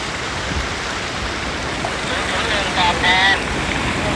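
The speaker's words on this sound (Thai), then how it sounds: "นี่เราก็มาจอดพักตรงน้ำตกนะครับ" A waterfall rushes in a forest in Nakhon Nayok during the rainy season, a steady broad hiss of falling water filling the background with faint voices briefly audible.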